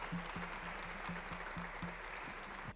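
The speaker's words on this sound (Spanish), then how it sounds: "Pido un aplauso más para nuestra autora celebrada de esta tarde." Quiet, distant applause for an author at a book presentation, a steady patter of claps, no voices heard over it.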